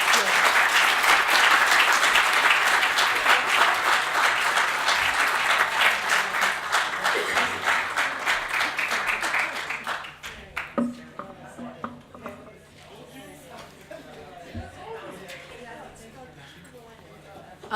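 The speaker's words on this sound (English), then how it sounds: "Let's give that a round of applause." Audience applause at the Black Issues Summit 2019, a loud sustained round of clapping from a full room that fades after about ten seconds into scattered claps and low murmuring.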